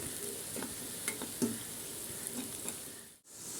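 Carrot, beans, capsicum and cabbage sautéing in a pan, a soft continuous sizzle with a few scraping stir knocks, close and fairly quiet, with a brief dropout near the end.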